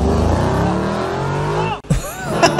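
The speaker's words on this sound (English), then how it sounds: "I want to hear this motor again" A car engine revs hard and loud for nearly two seconds, then a break is followed by further revving with faint voices.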